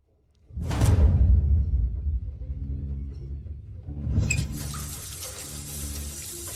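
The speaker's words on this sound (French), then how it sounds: "Le robinet de la salle de bain est cassé." Water gushes from a broken bathroom faucet after a moment of quiet, a steady rushing flow that surges again midway and keeps running, fairly close.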